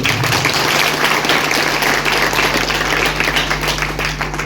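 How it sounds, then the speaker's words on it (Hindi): An audience at a health product business seminar claps loudly in a continuous burst, with a steady electrical hum running underneath. "थंडरब्लास्ट का नाम है तो एक बार जोरदार ताली।"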